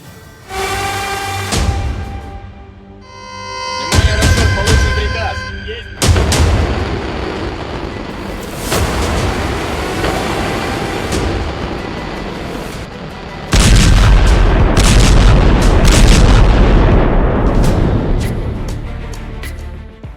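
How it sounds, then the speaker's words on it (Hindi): Missile strike blasts on the Ukrainian city of Dnipro, heard as a run of heavy booming explosions, one after another, each with a long rumbling roar and crackling debris that builds louder toward the end. "इंटरकॉन्टिनेंटल मिसाइल का धमाका ऐसा होता है।"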